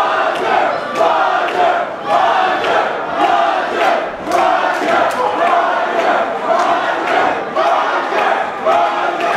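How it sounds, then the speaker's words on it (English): A loud Brooklyn crowd at a Warriors of Wrestling event gives a sustained ovation, roaring and cheering close up with rhythmic surges like chanting throughout. "Listen to this ovation here from the crowd in Brooklyn for Roger Mendez."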